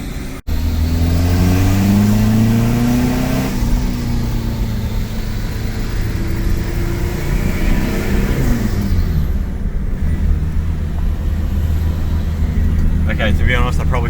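Turbocharged Ford Courier engine pulling hard under acceleration while driving, a loud continuous drone with rising and falling harmonics as it revs through gears, close and steady throughout the stretch.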